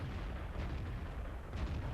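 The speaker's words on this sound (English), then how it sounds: "let's see if we can get a shot on this SCM as he crosses" Artillery gun firing in the CDC video game, a dense, rumbling burst of low booming energy that fills the two seconds with no pause, loud and close.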